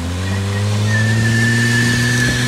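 A 4x4 truck's tire spins in place, giving a loud, close, steady engine drone with a rising whine as the wheel turns freely, lasting a few seconds without talk.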